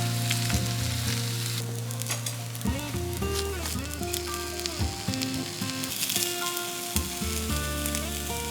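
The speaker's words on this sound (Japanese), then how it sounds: "フライパンにごま油を中火で熱し、ナスの皮目を下にして並べて炒めていきます。" Eggplant pieces frying skin-side down in sesame oil over medium heat in a frying pan, giving a continuous soft sizzle under prominent melodic background music, with no voices.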